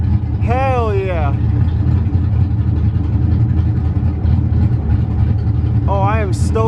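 A car engine idles steadily with a rich fuel setting, a constant low rumble running throughout while someone talks over it.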